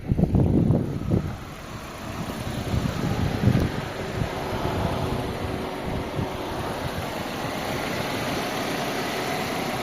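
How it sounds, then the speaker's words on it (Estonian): VW Passat 1.8T engine idling smoothly with no stray noises, a low steady hum close by, with a few louder bumps in the first seconds before it settles into an even drone. "Ja mootor töötab ilma kõrvaliste helideta"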